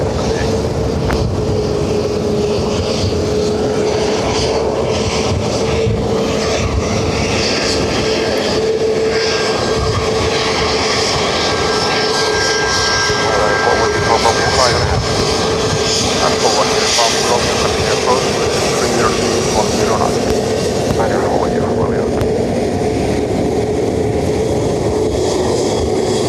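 A Qatar Airways Boeing 777 with a blown tyre lands at Dublin Airport, heard as a loud, steady, broadband engine roar that holds for the whole stretch, with air traffic control radio chatter mixed in.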